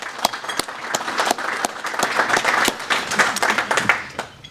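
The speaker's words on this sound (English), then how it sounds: "Let's give our guests a round of applause" A room full of people applauding, dense clapping that swells then tapers off, with a few sharper claps standing out near the front.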